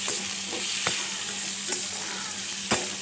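Bean pods in a curry with peanut powder and salt sizzle in a pan, with a steady frying hiss and several distinct scraping strokes from a spoon stirring the mixture.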